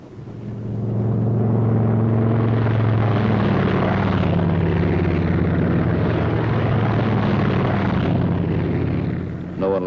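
A squadron of P-47 Thunderbolt fighter planes takes off. Their propeller engines make a loud, steady, droning roar that fills the whole stretch and fades slightly at the end, with no voices over it.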